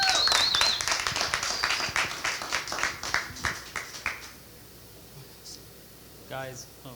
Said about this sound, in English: Please, another round of applause for John